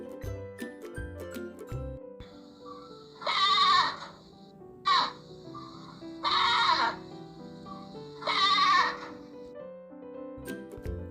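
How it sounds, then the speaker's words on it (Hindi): A domestic goat bleats three times in loud, wavering calls, with a short sharp bleat between the first two, over quiet background sounds. "ये है बकरी, जिसे हम इंग्लिश में बोलते हैं गोट।"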